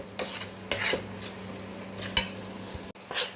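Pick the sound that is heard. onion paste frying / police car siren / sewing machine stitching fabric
onion paste frying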